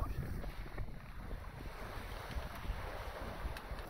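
A sailboat under way at sea between Lymington and Chichester, past the Needles and St Catherine's Point: constant rushing wind buffeting the microphone over churning waves and water slapping the hull, loud and close throughout.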